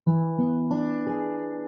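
A strummed guitar dominant seventh chord rings out, then is re-struck a few times and left to sustain, clear and close with no voices.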